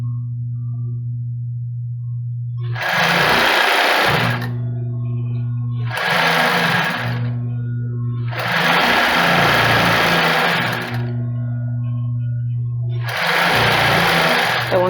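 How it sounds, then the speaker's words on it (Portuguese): A sewing machine stitches elastic onto a lace bra in four sustained bursts of running, each a few seconds long and separated by short pauses, with a steady low hum underneath throughout. "Então aqui terminamos de costurar o elástico"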